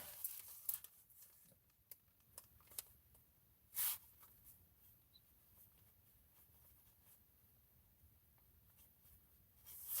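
A pen scratches out a timestamp in short, faint bursts of writing, with light paper rustles and one brief louder scrape amid near-silence.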